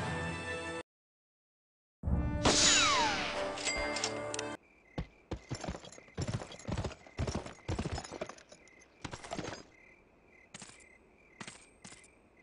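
Horse hooves clip-clopping in the Western video game GUN, a steady run of sharp, close hoofbeats with an irregular trotting rhythm, after a brief silence and a short burst of swelling musical tones.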